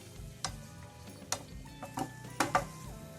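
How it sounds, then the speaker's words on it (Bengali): Mushroom momo filling with peas and chopped green chili being stirred in a pan, giving a few separate scraping clicks and taps with faint sizzling underneath. The sounds are close and fairly quiet, and no one speaks. "একটু মটরশুঁটি, একটু কুচনো লঙ্কা। খুব ভালোভাবে নেড়ে মিশিয়ে নেব।"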